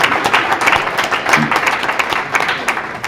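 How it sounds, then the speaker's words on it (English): An audience at a campus talk on sex education in schools claps, dense, brisk, and close for a few seconds, as a room-wide round of applause that does not fade. "just give them a little round of applause, please"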